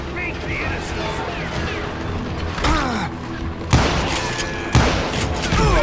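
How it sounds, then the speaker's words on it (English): Gunfire in the video game Call of Juarez: Gunslinger, sharp cracks and crashing impacts landing in a rough irregular sequence, with a voice talking over the shooting. "Where am I getting shot from?"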